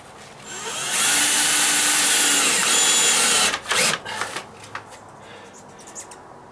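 A power drill drives 1-inch screws into 25-gauge steel track, with a loud sustained high whine for about two and a half seconds, then short bursts as the screw seats, close up with no talk.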